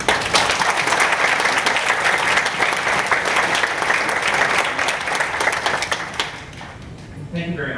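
Sustained applause from a wedding crowd, many hands clapping densely and steadily before tapering off near the end.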